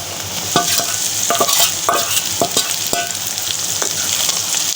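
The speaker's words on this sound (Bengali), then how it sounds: "এবার আমি শুটকিগুলো দিয়েও শুটকিগুলো একটু ভেজে নিব।" Dried loitta fish frying in a pan with onion and garlic gives a steady close sizzle, broken by several sharp scrapes and clinks of a spatula stirring against the pan.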